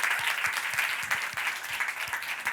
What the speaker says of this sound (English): So round of applause for yourself